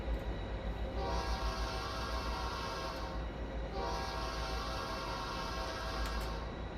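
An old cast P5A locomotive horn on an F40PH diesel in Train Simulator Classic, two long steady sustained blasts with a brief break between, loud and close over the engine rumble.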